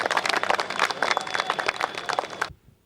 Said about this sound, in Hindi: संजय सिंह बाबूजी को आप जोरदार तालियां बजा के उनका स्वागत